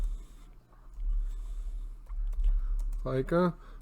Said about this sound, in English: Oh, sorry, I'm typing in here.